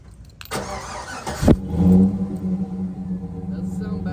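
Chevy Silverado 4.8 V8 with dual-pipe cat-back exhaust, x-pipe and 4-inch tips being remote started: a starter whir, then the engine catches with a burst and settles into a steady low rumbling idle nearby.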